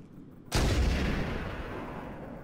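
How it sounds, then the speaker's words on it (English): A loud gunshot or explosive blast in the video game Halo Anniversary hits suddenly after a quiet half second, then rumbles and decays slowly, with no voices. "I just want to shoot this guy in the face."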